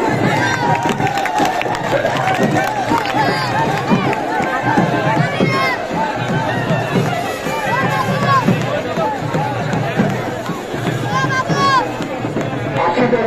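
A large crowd at the 2024 Jabbar's Boli Khela traditional wrestling event in Chittagong cheers and shouts as wrestlers enter the stage, a dense, continuous roar of voices with scattered yells rising over it.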